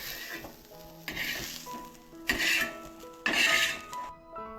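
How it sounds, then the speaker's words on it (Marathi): Grated coconut dry-roasting in a pan makes a soft sizzle with scraping stirs that swell in short bursts, set against steady tonal background sounds. "इकडे आपण खोबरा भाजून घ्यायचा आहे"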